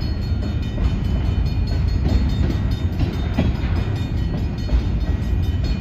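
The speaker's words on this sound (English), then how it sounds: "When's this train gonna end?" A Union Pacific freight train rolls steadily past a grade crossing in Algona, Iowa, making a continuous rumble with rail clatter and wheel noise, near and fairly loud, with no voices.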